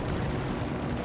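A naval gun salvo from the U.S. aircraft carrier F.D. Roosevelt in World of Warships rolls out as one dense, sustained roar, a loud rumbling blast filling the whole moment with no talking.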